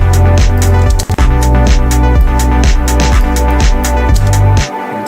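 Arpeggiated notes from the Retro Synth software synthesizer driven by an ARP MIDI effect in a chill house production, playing a loud, steady repeating pattern over a bass line, with a brief dropout near one second and a quieter tail at the end.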